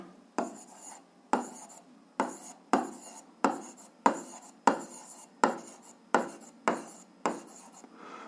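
Chalk or pen strokes set down a physics formula for power: a regular series of about thirteen crisp, separate scratches, close and quiet, each dying away quickly, with no talk.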